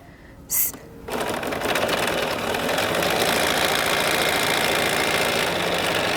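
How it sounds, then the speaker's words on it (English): A sewing machine stitching a quarter-inch seam on a quilt block runs in one steady, fast whirring stretch close by, after a brief click and a short pause at the start. "I'm going to go to my machine and stitch."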